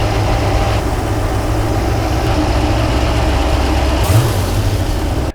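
A big block engine idling in a Chevy C10 truck with a retuned carburetor, a steady loud low rumble that holds even until cutting off abruptly at the end.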